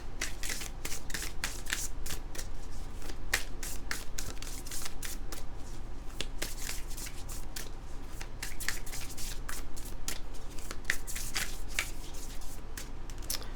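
A tarot card deck being shuffled over and over, crisp riffling and flicking of cards in a continuous close stream with no talking.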